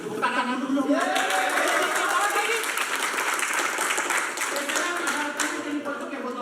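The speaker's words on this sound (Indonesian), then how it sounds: "Tepuk tangan dulu." An audience claps hands steadily throughout as a warm-up at a live event, a dense, fairly close patter of applause with voices talking and calling over it.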